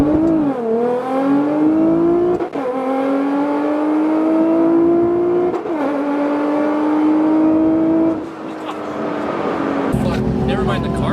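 A Nissan GT-R engine revs hard and loud while held on the brake, its pitch climbing and dropping in several rising pulls that break off sharply, with a person speaking over it.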